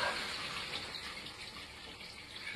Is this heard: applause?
no